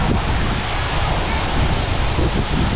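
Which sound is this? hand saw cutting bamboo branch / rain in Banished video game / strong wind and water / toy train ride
strong wind and water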